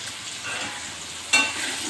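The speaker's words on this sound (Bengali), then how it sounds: "আলুটা ভাজা ভাজা হয়ে এসছে, এবার আমি পেঁয়াজ কুচিটা দিয়ে দিচ্ছি।" Chopped onion added to fried potatoes in a hot pan, a soft, steady sizzle with one short louder crackle partway through.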